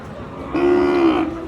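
A single Sahiwal cow moos once, a clear drawn-out low call close by, with faint crowd murmur in the background at a cattle market.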